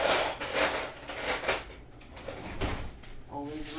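Metal spoon clattering against dishes and pans in a home kitchen as it is fetched during breakfast cooking, several sharp clinks and knocks close by, with a person talking throughout.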